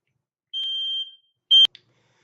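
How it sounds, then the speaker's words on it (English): A smoke-style fire alarm, set off by vapour from a vape box mod, gives one long shrill electronic beep, then a short loud second beep and a tiny blip after it, against near silence. "just set the fire alarm off with this box mod"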